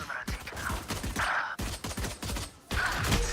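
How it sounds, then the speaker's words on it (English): Rapid bursts of automatic gunfire in the tactical shooter Valorant, clustered volleys separated by brief pauses, loud and close. "Let the bullets fly."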